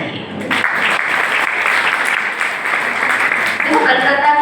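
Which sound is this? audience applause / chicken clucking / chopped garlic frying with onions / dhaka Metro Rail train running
audience applause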